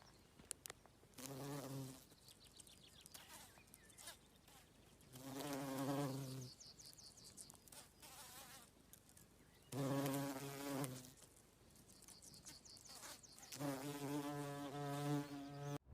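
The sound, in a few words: honey bees buzzing while flying between flowers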